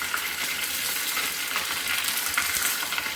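Curry leaves fry in hot oil with mustard seeds over a low flame for a khandvi tempering, producing a steady, close, loud sizzle with crackling spatter and no talking.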